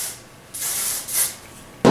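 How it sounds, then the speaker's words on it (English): Hairspray misted onto hair in a couple of soft hissing bursts, close by, followed by a brief louder rustle at the end. "hairspray it again"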